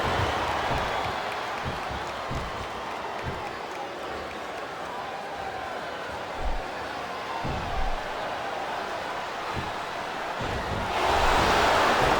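A wrestling arena crowd fills the space with a steady, distant roar and murmur that swells louder near the end, while commentators talk over it.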